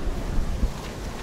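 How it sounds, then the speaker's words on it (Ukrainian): Strong wind buffets the microphone beside the Dniester river near the village of Mayaky, making a loud continuous low rumble with gusty surges and no voices. "Сильний вітер."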